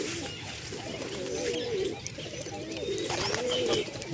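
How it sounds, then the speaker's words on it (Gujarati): White pigeons coo softly while pecking grain from an outstretched hand, with repeated low throaty coos and a few faint chirps close by against light background noise. "કબૂતરના હાથમાં દાણા ખવડાવ્યા જો આપણે"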